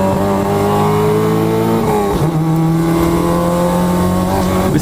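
Lotus race cars at Dezzi Raceway, loud, close engine drone with rising tones that dip and climb again as the cars work through a corner, with overlapping engines and no voices.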